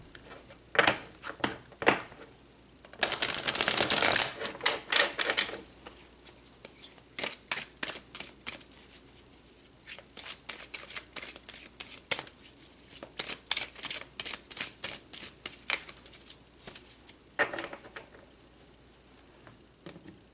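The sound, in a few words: tarot cards being pulled and shuffled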